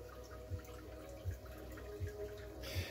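Unsettled tap water running straight from the faucet into a 180-litre aquarium: a steady low wash with soft, evenly spaced gurgles.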